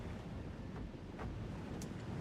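Steady ocean surf and wind wash through the whole stretch aboard a ship in the game Morimens, with a low machinery rumble underneath and a couple of faint brief swishes; no one speaks.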